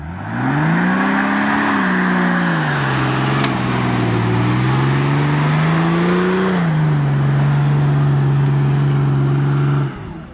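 A car engine revs hard under throttle close by: the pitch climbs, dips and swells again, then settles into a loud, steady held rev that cuts off abruptly near the end.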